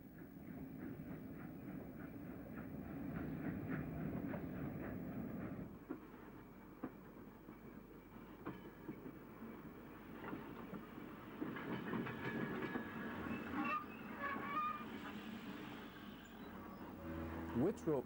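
A pick-up goods train rumbles along the rails of the Waverley Route in Scotland at a distance, with a steady low roar and intermittent clatter of wagons over the track.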